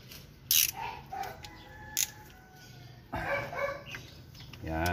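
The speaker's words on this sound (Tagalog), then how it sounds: "Higpitan ko na ng ratchet na with socket. Yung bolt niya." A socket ratchet tightens a bolt with short bursts of clicking at close range, mixed with faint mechanical clatter over a quiet background.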